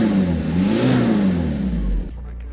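Volkswagen Scirocco engine revving close by, rising and falling in pitch for about two seconds before cutting off abruptly.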